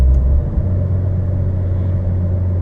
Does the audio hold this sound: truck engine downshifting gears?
yes